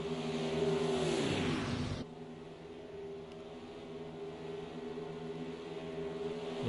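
A stock car engine at Daytona International Speedway in a racing video game: a loud car whooshes past in the first two seconds, then a steady multi-toned engine drone carries on alone.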